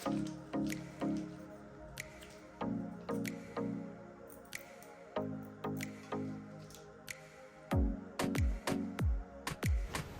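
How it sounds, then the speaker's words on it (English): Sticky milk filling squeezed from a piping bag into a doughnut, a run of soft wet squishes and squelches in uneven bursts, close and fairly loud with no talking. "Continue watching to see how I pipe mine into my donut."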